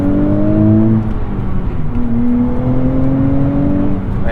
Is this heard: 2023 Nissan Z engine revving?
yes